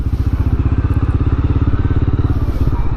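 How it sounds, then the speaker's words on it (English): Motorcycle engine idling as the bike rolls slowly at about 4 mph past a busy beach, a loud, steady low pulsing thump running close throughout with faint wind noise. "Just lightly roll through here at 4 miles an hour because that's what the bike idles at"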